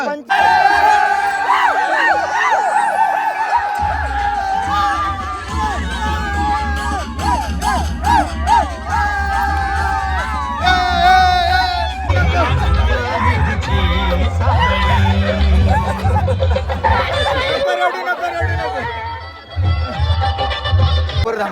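A crowd at a celebrity cricket match cheers and shouts loudly and continuously, with whoops and screams over dense babble. Music and voices run through the din.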